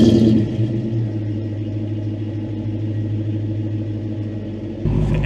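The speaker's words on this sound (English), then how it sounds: "And this is a warm start of the Saleen 570X." A Saleen 570X sits warm-started and idling, a steady, close, deep engine rumble with a low droning hum that holds evenly, swelling slightly at the end.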